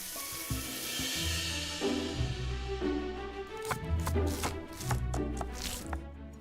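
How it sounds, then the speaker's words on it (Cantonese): Knife dicing seasonal vegetables on a board, with rapid, close, steady chopping taps over faint kitchen background noise. "各種時令蔬菜切粒"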